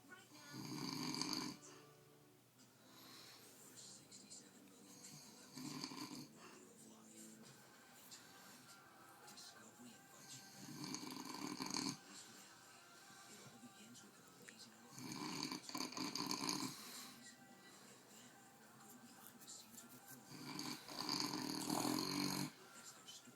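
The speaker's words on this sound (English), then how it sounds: "are you snoring?" A person snores in repeated slow cycles, each rasping breath rising and fading several times, quiet and close in a still room.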